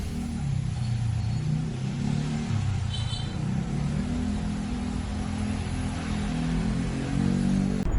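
A vehicle engine runs with a steady, loud mid-range rumble and revs, moving off without a clear break across eight seconds, with no talking over it.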